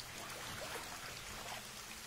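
Rain falls on a rooftop where two women wash clothes, giving a faint, steady patter and trickle with no voices.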